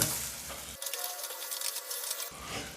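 Chopped tomatoes and salt stirred in a hot pan over a raised gas flame for South Indian tomato chutney, giving a continuous soft sizzle with scraping stirs, close and moderately quiet, with no talking.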